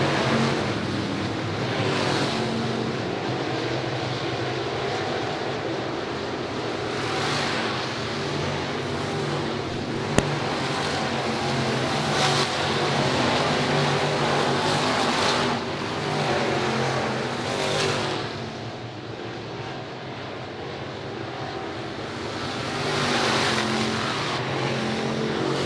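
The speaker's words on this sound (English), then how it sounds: "Laps are continuing to wind down here at the Speedway." Sportsman race cars lap a speedway oval during a 602 Sportsman feature at Patriots Park Raceway, their engines a continuous loud roar that swells and fades as packs of cars pass.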